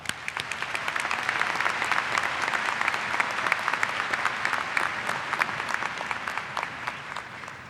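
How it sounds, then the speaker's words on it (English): Graduates applaud at an evening college commencement, a dense, steady roar of many hands clapping throughout, with no speech over it. "Give yourselves a round of applause."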